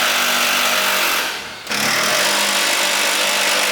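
A loud, continuous rattling impact wrench close by takes out the subframe nuts on a Nissan GTR during engine removal, briefly dropping out near the middle before hammering on again, with no talking.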